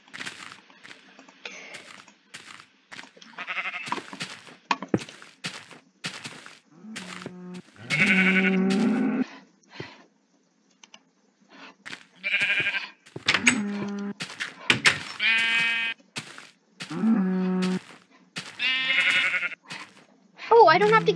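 Sheep in the Minecraft video game bleat over and over, with short quavering cries arriving in irregular bursts separated by brief gaps, loud and close.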